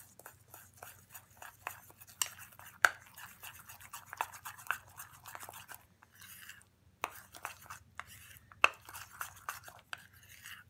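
Honey and other ingredients are stirred with yogurt into a thick paste, a quiet, rhythmic scraping and squishing of a spoon in a small bowl, with brief pauses between strokes.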